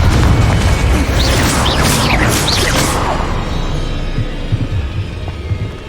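Confringo blasting spell explosions in the Hogwarts Legacy video game, a loud booming rumble with whooshing bursts through the first seconds, then fading to a lower, quieter mechanical background.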